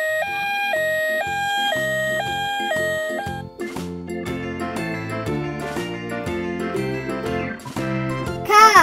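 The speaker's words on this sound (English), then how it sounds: "Ambulance!" A cartoonish ambulance siren alternates between two pitches in an even up-down pattern for a few seconds, then gives way to bright, bouncy children's song music.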